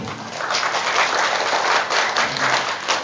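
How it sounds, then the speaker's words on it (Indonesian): A crowd of villagers at a local political gathering in Sukamukti, Mesuji, claps their hands together, a brief, busy patter of many hands lasting about three seconds. "Tepuk tangan dulu."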